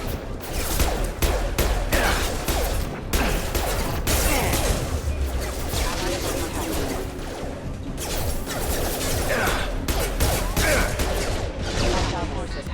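Rapid bursts of loud explosions and gunfire crash and boom continuously, with whooshes and clattering debris in a chaotic battle mix.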